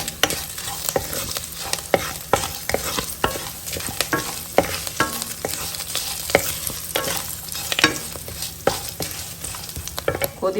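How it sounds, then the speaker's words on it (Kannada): Curry leaves hit hot oil as a tempering for pongal, giving a steady sizzle with frequent clicks and scrapes of stirring. The sound is close and moderately quiet, and no one speaks. "ಕರಿಬೇವಿನ ಸೊಪ್ಪನ್ನು ಸೇರಿಸ್ಕೊಳ್ತಾ ಇದ್ದೀನಿ ಒಗ್ಗರಣೆ ಸೊಪ್ಪು"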